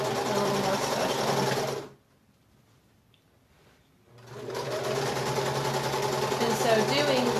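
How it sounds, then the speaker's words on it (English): A domestic sewing machine runs steadily while quilting a queen-size quilt, a loud continuous whir that stops for about two seconds and then starts again, with a voice talking over it. "So doing the specialty quilting on this will take a little more time than what my quilting typically takes"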